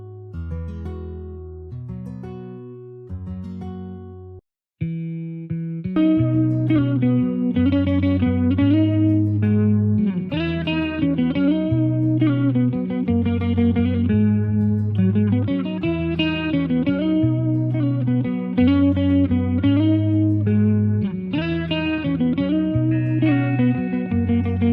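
A clean, dry virtual guitar with no effects plays a repeating melodic phrase with low bass notes, starting sparse, then a brief pause before fuller, steady playing resumes.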